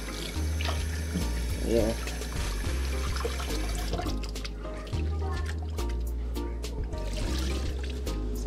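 Tap water runs and splashes while rice is washed in a kitchen sink, a continuous liquid rush with shifting gurgles, and a voice speaks briefly over it.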